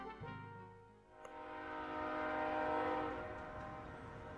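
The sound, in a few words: train with horn, from video game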